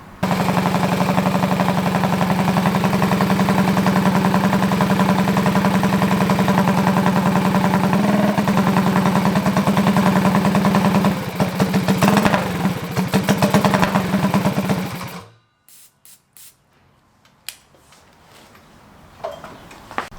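A mini bike's small engine runs loud and steady with Galaxy gas fed into the front of the carburetor, a rough buzzing drone with rapid popping, then it cuts out around fifteen seconds, leaving quiet clicks and handling noises.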